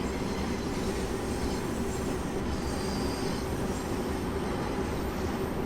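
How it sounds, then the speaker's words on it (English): Train rumble in Train Sim World 2 on the Bakerloo Line, a steady, dense rolling roar of wheels on rails with faint squeal, continuous and fairly loud without talk. "You can hear some trains."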